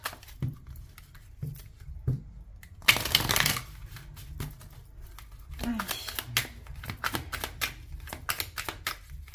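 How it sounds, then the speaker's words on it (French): Tarot cards riffled and cut by hand, a long dense shuffle burst in the middle framed by sharp slaps and card flicks, close and fairly loud with no talking. "on va voir ce que nous dit le tarot et on va commencer par une coupe"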